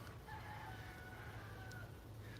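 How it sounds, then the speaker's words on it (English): Chickens cluck and a rooster crows amid steady outdoor background noise beside railroad tracks at a historic depot in downtown Stevenson, Alabama, the calls moderately distant and layered over a constant low hum. "You can hear all the chickens."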